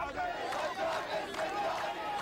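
A small, enthusiastic crowd in a Baghdad neighborhood follows Saddam Hussein, a steady mass of excited voices and chatter heard at moderate distance, with no single voice standing out.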